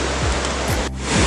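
Rushing water from waterfall rapids in Peumayen Tenglo park, Maule region of Chile, a steady broadband roar that fills the whole clip, loud and continuous with no talk.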